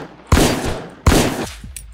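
Two loud, sharp gunshot blasts in the video game Miscreated, about three-quarters of a second apart, each with a short ringing tail, followed by faint clicks.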